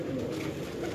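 A large, very light fancy breed pigeon from Sialkot coos in a low, continuous, close rumble that fills the whole moment.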